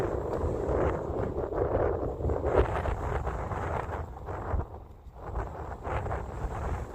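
Desert wind buffets the microphone while riding an electric scooter across Tucson, a constant loud low rumble with gusts swelling and easing throughout and no voices.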